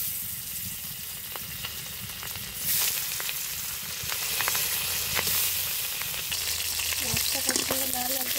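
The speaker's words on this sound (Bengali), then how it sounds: "তরকারির জন্য মাছগুলো ভেজে নিব।" Fish pieces coated in turmeric and salt fry in hot oil, giving a continuous close sizzle with occasional sharp pops and crackles that grows slightly louder partway through.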